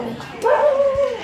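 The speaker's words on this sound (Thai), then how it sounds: "มาเห่าอีกแล้วครับ" A dog barks at strangers, a short strained bark drawn out into a yelping whine, close and fairly loud over a low background murmur.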